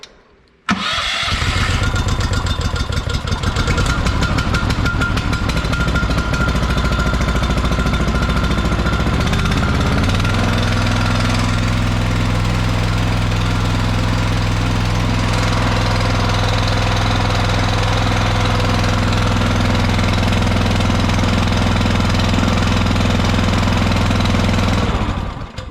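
A Briggs & Stratton Vanguard engine cranks and fires within a second, then runs loudly and steadily up close with a rapid knocking rhythm, settling into a lower, even idle partway through.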